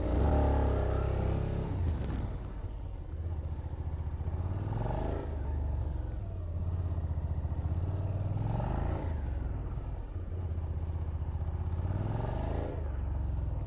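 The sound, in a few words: Suzuki SV 650 motorcycle riding figure eights in gymkhana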